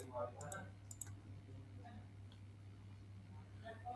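A computer mouse clicks while a website form is filled in: two quick double-clicks in the first second, sharp and close, over a low steady hum with faint background voices.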